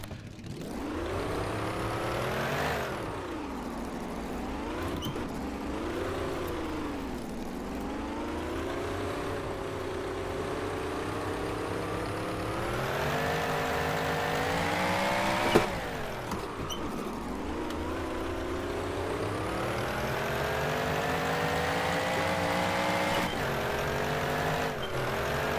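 A 1927 Delage 15S8 race car in a historic racing game at Feldberg, its engine revving up and down in long sweeping pitch swells through gear shifts, loud and continuous, with one sharp knock midway.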